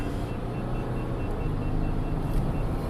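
Ram EcoDiesel pickup truck engine accelerating hard at about 2,000 RPM: a steady, dense low diesel rumble with road noise, heard from inside the cab, with no talking.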